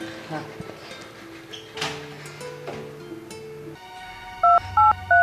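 A phone is dialled near the end, three short, loud keypad tones in a quick, even sequence, after quiet indoor sounds.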